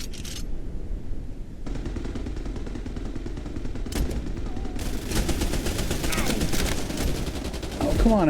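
Enemies keep firing in the space game SpaceBourne 2, with rapid automatic gunfire rattling almost nonstop. It grows denser and louder toward the end, mixed with game sounds.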